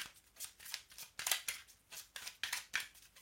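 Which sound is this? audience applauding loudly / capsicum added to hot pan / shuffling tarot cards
shuffling tarot cards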